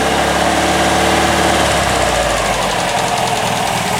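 A 1954 MG TF's warmed-up engine idles close by, a loud steady mechanical chug with rhythmic knocking pulses and rumble filling the whole stretch.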